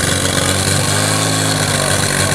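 A fire pump engine runs steadily at a firefighting competition, a loud continuous mid-pitched motor drone with a constant hum, close and unbroken, with no voices.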